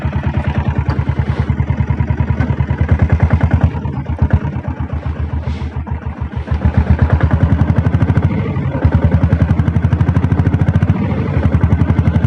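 A Royal Enfield Bullet motorcycle fitted with a diesel engine runs steadily, its loud, close, heavy thumping beat continuous throughout with slight swells in speed and no talk over it.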